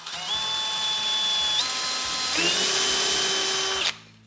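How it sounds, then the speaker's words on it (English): A cordless drill whines steadily, its pitch shifting as it drives a wide-cap screw into a cabinet pullout rack, then stops abruptly near the end. "So I'll drill the first one and show you"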